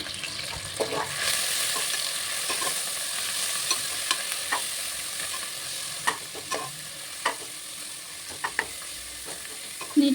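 Onions fry in oil for a mutton biryani, a steady, moderate sizzle running throughout, broken by occasional light clinks and scrapes of a spoon stirring the pan, close and without talk.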